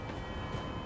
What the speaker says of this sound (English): We've got trains on the tracks.